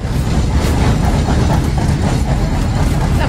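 A city tram rolls along its rails in a loud, continuous rumble with rhythmic wheel clatter heard from close by on board. No one speaks.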